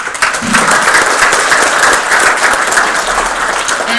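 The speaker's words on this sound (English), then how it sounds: "Let's give Mrs. DeBoer a hand" Close, steady applause from a school audience at a board meeting, clapping for Mrs. DeBoer, a musician, holding at full volume for the whole stretch without pause.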